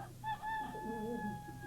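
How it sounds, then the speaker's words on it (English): A rooster crows once, a clear harmonic call held for more than a second and a half, fairly close and standing alone over a low background hum. "What is that? It's a rooster."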